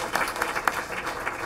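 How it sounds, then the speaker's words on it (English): Applause at a school board meeting for students who performed at festivals, a short burst of steady clapping with a few sharper claps, fairly close and at moderate level. "Let's give them another round of applause"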